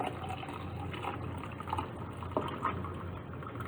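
Water poured into jars holding pipe cleaners for a crystal candy cane experiment, a steady close splashing and trickling fill with a few small clinks of glass, without talk.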